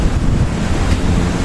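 Loud, rough roar of typhoon wind buffeting the microphone with heavy rushing rain during Typhoon Kristine in 2024, a dense continuous storm noise.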